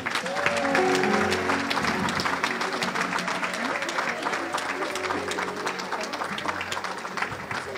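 A crowd at a surprise birthday party claps and cheers steadily, loud and dense throughout, with voices and shouts mixed into the applause.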